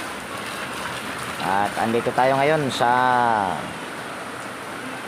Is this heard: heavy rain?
yes